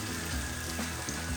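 Burger patties sizzling in a hot frying pan, a steady close crackle and hiss with soft bubbling, no voices.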